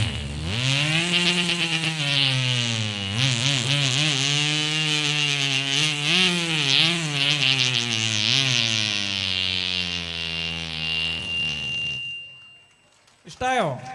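A voice mimics a chainsaw cutting a tree, a loud buzzing drone with revving pitch swings that rises and falls repeatedly for about twelve seconds before stopping abruptly.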